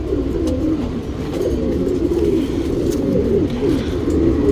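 Pigeons coo steadily and close by from a male pigeon of a champion racing line, with a continuous low, rolling murmur across the whole stretch and no voices.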